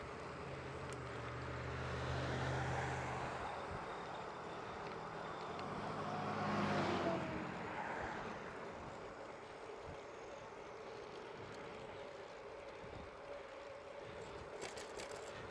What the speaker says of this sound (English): Two cars coming up behind me.